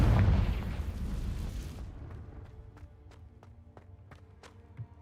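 A Confringo blasting spell from the game Hogwarts Legacy erupts in a loud, rumbling explosion that fades over about two seconds, followed by scattered faint crackles and small pops.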